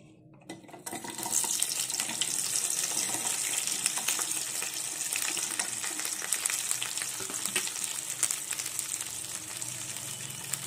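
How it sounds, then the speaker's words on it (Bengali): Okra sizzles steadily in hot oil in a pan, a dense continuous crackle that starts after a brief quiet moment and holds at a constant level with occasional stirring scrapes, no voices. "এবারে ঢেঁড়সগুলো একটু ভেজে নেব।"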